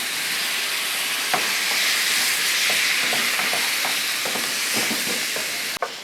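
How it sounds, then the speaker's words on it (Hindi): Beef biryani masala sizzles and fries in a pot with a steady hiss, broken by scattered stirring scrapes and clinks. A sharp knock comes near the end. No one speaks. "इसको हमने अच्छी तरह से भून लेना है। साथ ही थोड़ी सी यखनी डालेंगे ताकि मसाला इसमें जले नहीं।"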